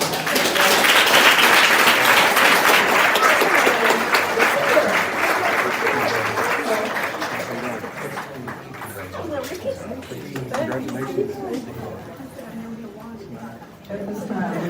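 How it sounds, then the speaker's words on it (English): A school board meeting audience gives a loud round of applause, dense clapping at first that gradually thins and fades out toward the end. "let's give them a huge round of applause."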